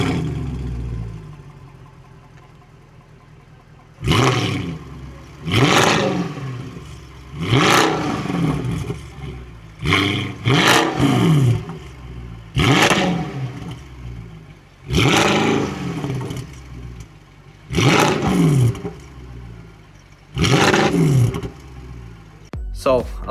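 A Mercedes C63 AMG V8 fitted with decats and headers revs repeatedly in bursts, eight or nine sharp, loud roaring blips with crackling falloff, separated by a lower idle rumble, close by and heard alone.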